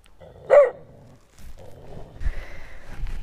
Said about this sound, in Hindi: ये कुत्ता मेरे को बहुत डिस्टर्ब कर रहा है